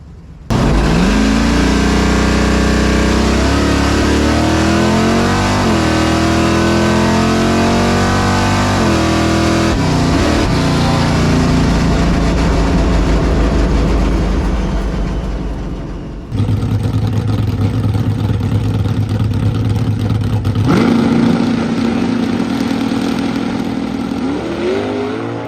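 A loud Nova drag race car engine revs hard and accelerates with rising pitch through gear changes, then another roaring run of a drag racer speeding away, at a Nevada drag strip.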